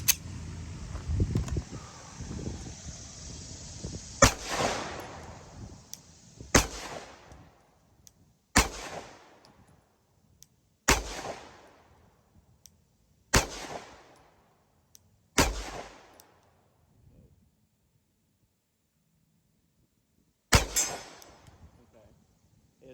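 A Sig Sauer P365X Macro pistol fires single sharp shots at an outdoor range, about eight spaced-out cracks with short echoing decays and quiet gaps between them.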